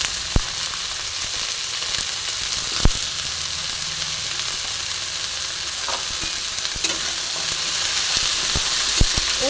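Chopped shish palong spinach fries in a pan with a steady, bright sizzling hiss. A few sharp clicks of a utensil against the pan break through at scattered moments, and no one speaks.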